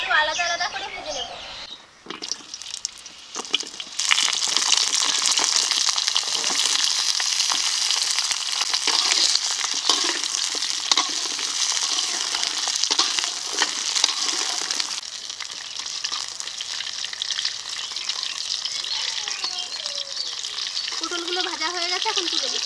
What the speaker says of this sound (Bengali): এই তেলে পটল ও আলু আলাদা আলাদা করে ভেজে নেব।